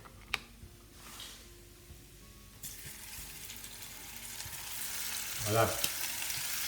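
Turkey escalope is laid into a hot pan and starts to sizzle loudly. The broad hiss of frying swells partway through and keeps going, with a brief clatter of the pan and one short spoken word.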